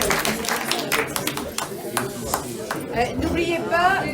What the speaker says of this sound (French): Il faut les applaudir.